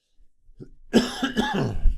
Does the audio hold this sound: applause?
no